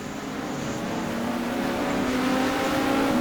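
Racing engines from a BMW and a Viper battling in a racing video game at Zandvoort, a loud, steady, rising engine drone with a climbing pitch, heard alone.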